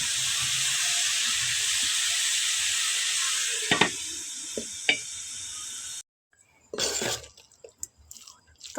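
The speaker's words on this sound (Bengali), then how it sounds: "এখানে গাজর দিয়ে বাঁধাকপি ভাজি করে নিলাম" Cabbage and carrot frying in a pan give a steady soft sizzle and hiss with a few sharp clinks, then cut to near silence broken by brief clattering.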